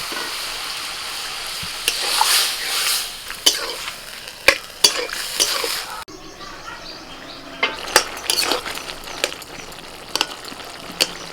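Water poured into a hot pan of ginger, green chilli and cumin paste sautéing in oil, giving a crackling sizzle with sharp spatters and scraping stirs, settling into a quieter hiss partway through.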